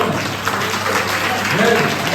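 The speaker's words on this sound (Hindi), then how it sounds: "एक बार 2000 ताली हो।" A group claps steadily at a fire safety and first aid training session, dense close applause with voices mixed in, lasting the whole stretch.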